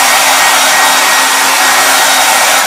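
A hair dryer blows a steady, loud, unbroken rush of air while drying a vinyl decal on a KitchenAid stand mixer, with no talking.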